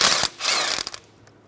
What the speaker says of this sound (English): Once all your bolts are loose, go ahead and remove them all from the valve cover.